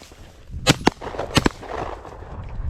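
Shotgun blasts at a flushed pheasant on a cold hunting day, heard as two pairs of sharp, loud cracks in quick succession against an open-air background.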